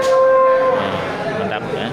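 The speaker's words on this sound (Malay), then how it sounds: "Ada kerbau dari peternakan sendiri di Simpang Jaya" Water buffalo bulls native to Aceh bellowing at a busy livestock market in Bireuen, a loud drawn-out moo opening over a dense, noisy crowd background.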